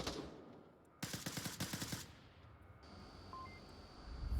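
A burst of about ten rapid SKS rifle shots rings out in the Onward VR shooter, evenly spaced and sharp, followed by a quieter stretch with faint beeps and ambient hum.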